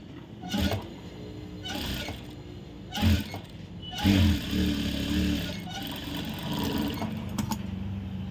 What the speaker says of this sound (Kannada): ಹಿಂಗೆ ಬಂದು ಹಿಂಗೆ ಹೊಲಿಗೆ ಹೋಗ್ಬೇಕು ಓಕೆ ತೋರಿಸ್ತೀನಿ ನೋಡಿ